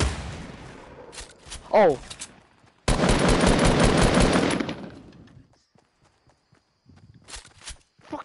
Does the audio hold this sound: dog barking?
no